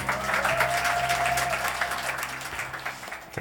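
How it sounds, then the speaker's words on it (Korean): Steady applause from a church congregation fills the room after a wedding song, dense clapping that continues throughout and tapers slightly toward the end. "박수."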